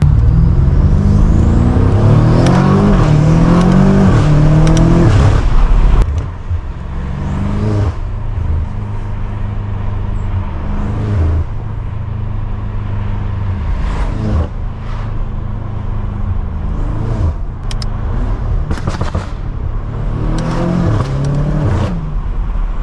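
Two modified BMWs, an 800 hp F90 M5 and a 700 hp G80 M3 with downpipes and front-mount intakes, rev hard and shift on backroads, loud and close, with aggressive upshift and downshift barks and burbles between pulls.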